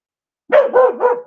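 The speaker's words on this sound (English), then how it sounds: "Oh, there goes the dogs again." Dogs barking indoors, a quick close run of three loud barks after a moment of silence.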